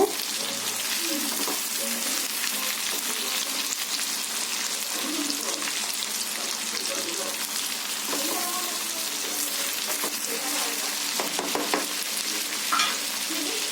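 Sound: ivy gourd pieces added to pan and stirred

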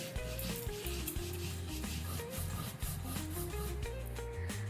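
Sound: grinding chilli into paste for mutton curry

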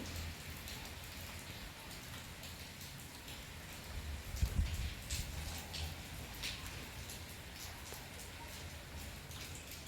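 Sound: light rain falling

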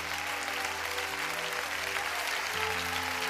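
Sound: congregation applause

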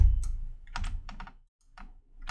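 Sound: typing on a computer keyboard

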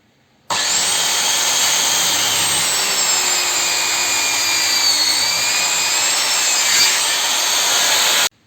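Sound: circular saw cutting wood

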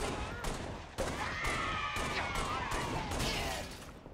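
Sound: gunshot in the video game Halo Reach

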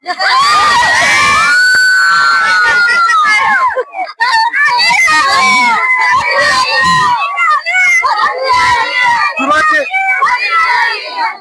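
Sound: women's crowd cheering in celebration

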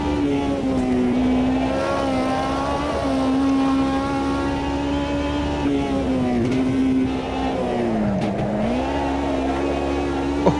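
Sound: race car engine revving, from the video game Automobilista 2 (AMS 2)

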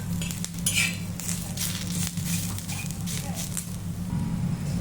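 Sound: onion frying in a pan until brown

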